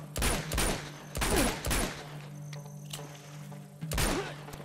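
Gunfire during a gunfight in the video game Uncharted 2: Among Thieves, with several sharp bursts of shots and thuds in irregular clusters, separated by brief quieter gaps with mechanical clicks.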